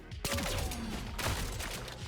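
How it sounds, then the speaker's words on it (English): Shotgun blasts in the boomer-shooter game ODDCORE, two heavy booming shots about a second apart, each trailing into reverberant noise. "Q, the shotgun, that's what I'm talking about."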